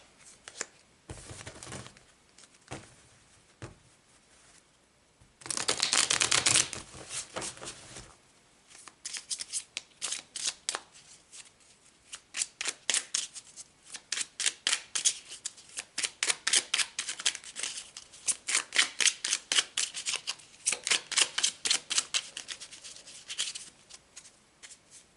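A deck of tarot cards is shuffled and cards are pulled, with bursts of riffling and a long run of quick rhythmic card flicks, close and clear with no talk.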